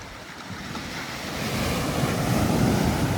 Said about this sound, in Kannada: ಆಹಾ ಏನು ಅಲೆಗಳು, ಏನು ಅಬ್ಬರ, ಏನು ಅಲೆಗಳು, ಏನು ಅಬ್ಬರ.